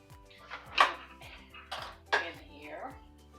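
Dry rice poured into a baking dish for a chicken mushroom rice bake, heard as several short gritty rattling bursts against the dish with clinks, close by and moderately loud under faint background hum.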